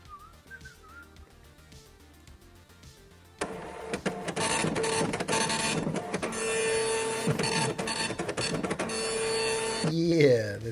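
Dot matrix printer sound effect: after a brief quiet opening with faint tones, a loud buzzing print head kicks in abruptly and chatters for several seconds, then ends with a short rising mechanical whir.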